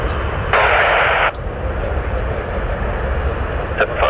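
Jet engines of a British Airways Airbus A321 departing runway 27L at London Heathrow roar steadily in the distance, with a brief louder burst early on and faint radio chatter mixed in.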